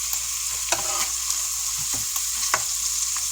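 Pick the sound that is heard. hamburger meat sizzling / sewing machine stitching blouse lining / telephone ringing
hamburger meat sizzling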